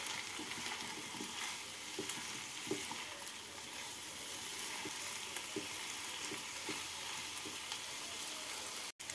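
Jeera aloo fries in a pan as a ground roasted spice mix is stirred through, a soft continuous sizzle with faint spoon scrapes at irregular intervals, quiet and close, no talking.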